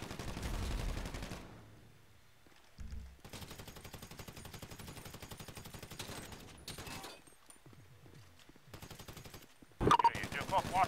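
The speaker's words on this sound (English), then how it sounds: "Shots fired, one down." Gunfire during a mass shooting in a police roleplay video game: rapid bursts of automatic shots in long volleys with short pauses, ending in louder nearby blasts, with voices over radio between.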